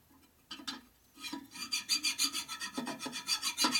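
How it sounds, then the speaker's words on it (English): Metal file rasping across a 1946 Harley-Davidson Knucklehead engine part, a few tentative strokes followed by rapid rhythmic back-and-forth filing, close and moderately quiet. "File's not moving around like it was."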